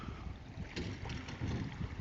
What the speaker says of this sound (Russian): Немного ветрено